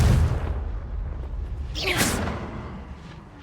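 A Confringo spell blast in Hogwarts Legacy: a low boom at the start, then a bright rising whoosh and burst midway, fading into a rumbling tail amid game ambience.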